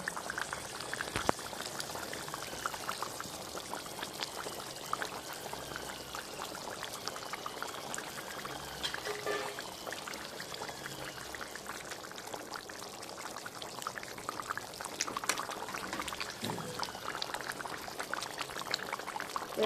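Bata fish going into a simmering Bengali-style curry in a pan, with a steady bubbling and pouring liquid sound that stays moderately close and continuous, with a few brief clinks and splashes.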